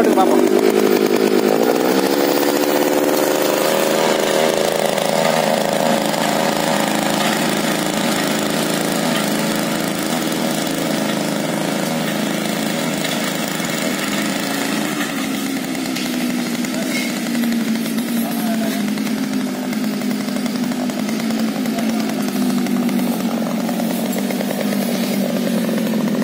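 A small 86cc engine running steadily after starting, a loud buzzing drone close by with slight shifts in pitch over nearly half a minute, no talking over it.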